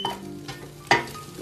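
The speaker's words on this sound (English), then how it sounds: "I'm burning tortillas." Tortillas frying and burning in a hot pan, a soft steady sizzle broken by a few scraping stirs and one sharper clatter near the end, with no talking.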